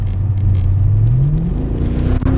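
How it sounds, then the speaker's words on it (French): A Mercedes E63 AMG W211 accelerating, its engine note rising steadily in pitch over a deep, loud, close rumble, with no talking. "il va me faire une petite accélération avant de me déposer chez moi"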